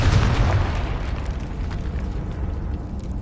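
A Confringo blast spell detonates in Hogwarts Legacy, a loud booming explosion with a heavy low-end burst up front that decays into a rumbling tail, with no speech over it.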